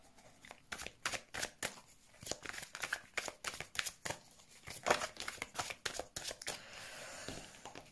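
Tarot cards shuffled by hand for a weekly reading, a quick run of crisp riffling and slapping bursts close up, ending in a longer continuous shuffle with no talking.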